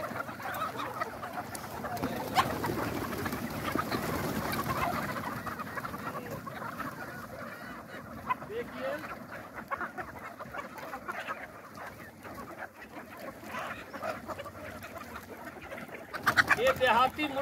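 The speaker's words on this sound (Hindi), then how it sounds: "ये देहाती मुर्गा को इसलिए फार्म खोले हैं" Country chickens on a poultry farm cluck and murmur throughout, with occasional louder squawks, a busy flock heard at moderate distance with some background voices.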